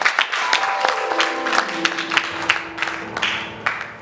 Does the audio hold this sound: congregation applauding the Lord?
yes